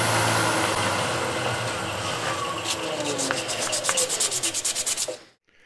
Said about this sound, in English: just hit it with a little bit of sandpaper and that's it